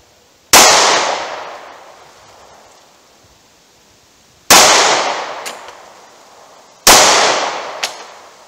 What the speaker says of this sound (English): I'm gonna run a few rounds at that target about 7 yards